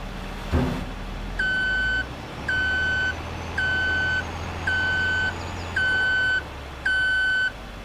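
Loud, evenly spaced reversing beeps from a truck in Farming Simulator 22 on the Yukon Valley map, six long tones in a steady on-off rhythm over a low engine hum, with no talking.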